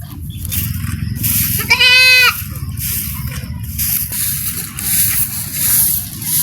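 A goat gives one loud, quavering bleat close by, lasting about half a second, over a steady outdoor background of rustling and low noise.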